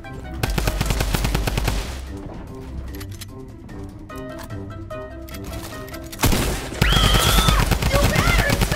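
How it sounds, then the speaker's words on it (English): Video-game gunfire: bursts of rapid machine-gun fire and sharp single gunshots, loud and close, with a heavier barrage near the end and players' voices talking over parts of it. "I hear shots"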